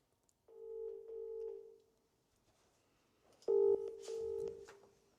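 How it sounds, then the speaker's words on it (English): A telephone call rings out in two rounds of a clear electronic double-tone ring, separated by a short pause, fairly faint and with no one speaking. "let's see if Thomas is able to answer the phone"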